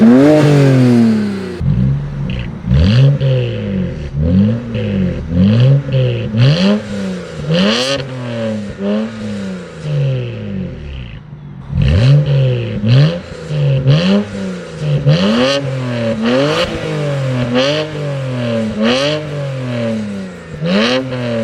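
A BMW 335i with a catless downpipe exhaust revs hard again and again, each loud climb and drop carrying a whooshing turbo spool, with a short pause partway through.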